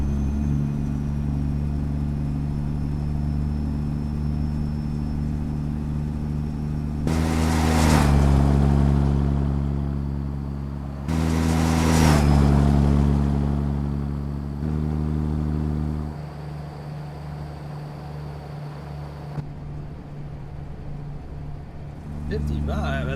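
Kenworth truck engine in American Truck Simulator, a steady low droning rumble that swells twice as the truck revs and shifts before settling back to a smooth cruise, with a person talking over it.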